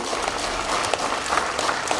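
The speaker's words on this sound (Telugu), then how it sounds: "Give them a big round of applause." An audience at a Jyothi Day for World Peace event in 2018 breaks into steady, dense applause, a continuous wash of many hands clapping throughout.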